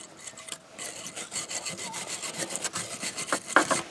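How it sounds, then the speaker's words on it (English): A wire brush scrubs rear brake parts on a Nissan Titan during a brake service, giving quick, rhythmic rasping strokes, close and fairly loud, with no talking. "so we're going to clean that up with the wire brush"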